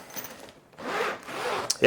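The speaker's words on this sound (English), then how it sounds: "These YKK zippers, they're not getting stuck when you're trying to pull them or anything like that." A YKK zipper on a carry-on suitcase pulled smoothly in two quick, close rasping strokes, ending with a sharper scrape, with no voices.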